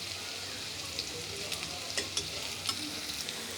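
Cabbage and lentil pakoras deep fry in hot oil, a soft, even crackling sizzle with scattered faint pops and light utensil taps, fairly quiet and continuous with no talk.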